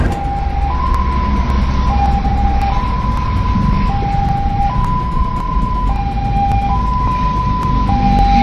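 An ambulance siren wails in a traffic jam, a loud two-tone pattern alternating steadily and repeating throughout, over a dense low rumble of idling and crawling traffic with no talking.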